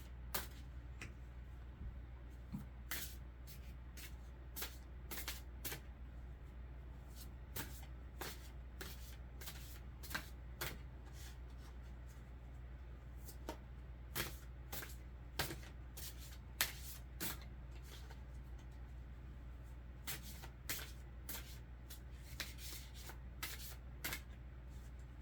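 Deck of animal oracle cards being shuffled by hand, a long run of soft, close riffling and sliding bursts at an uneven rhythm over a faint low room hum.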